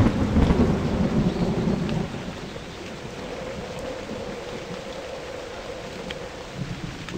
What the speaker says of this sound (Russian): Вот как раз сейчас начался дождь такой.